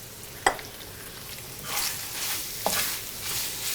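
A spoon stirs sugar into ghee-fried chhena in a pan, making soft scraping swishes over a low frying hiss, with a couple of sharp taps against the pan.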